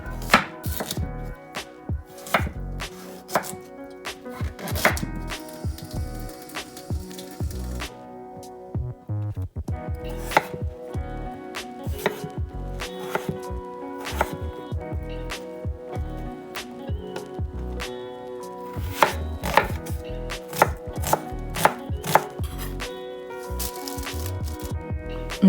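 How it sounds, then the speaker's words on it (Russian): A knife chops vegetables in a home kitchen, making rapid, rhythmic strikes close up, in steady bursts with brief pauses throughout. "Режу овощи."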